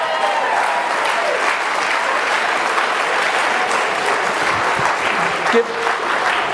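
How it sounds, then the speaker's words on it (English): Steady applause from an audience after a quiz-style winner is congratulated, dense and sustained throughout with a faint murmur of crowd voices beneath. "Let's give a round of applause."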